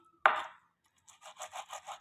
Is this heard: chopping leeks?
yes